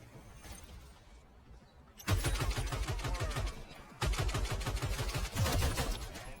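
After a quiet moment, Call of Duty gunfire erupts in dense, rapid bursts, loud and close, breaking off once and then carrying on.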